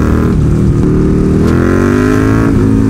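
KTM 1290 Super Duke R motorcycle engine downshifting via quickshifter, a loud close-up roar with rising and stepping engine pitch and brief blips between gears.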